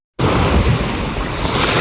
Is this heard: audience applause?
no